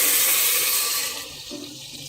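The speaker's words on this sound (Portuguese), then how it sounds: "Água até cobrir." Hot water poured from a kettle into a cooking pot with salt for a weekly meal-prep dish, a loud close splashing gush that fades into a softer trickle.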